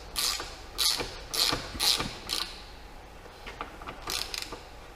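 A multi-spline bit turns a bolt on a BMW 120d engine mount, about 2005, giving several close ratcheting, creaking mechanical clicks in bursts, then fainter ones after a pause.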